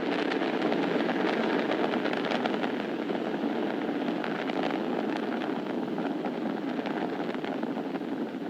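A launching rocket roars in flight, passing supersonic, heard as a continuous, dense, rumbling wash of engine noise with crackling texture, steady and distant-sounding throughout.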